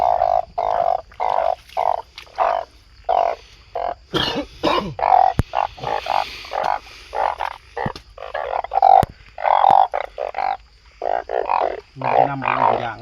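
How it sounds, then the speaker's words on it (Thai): Banded bullfrogs croaking in a chorus out in scrubby dry forest, rapid pulsed calls from several frogs repeating throughout with overlapping rhythms, loud and close, with a few sharp clicks and knocks. "อึ่งอ่าง"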